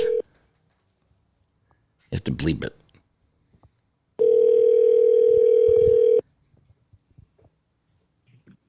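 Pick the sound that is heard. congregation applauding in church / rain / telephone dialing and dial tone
telephone dialing and dial tone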